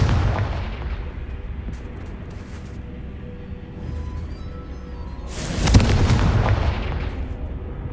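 Confringo fire spells in the video game Hogwarts Legacy burst into loud, rumbling explosions, with a steady roar building to a heavy blast near the end and sparse crackles in between.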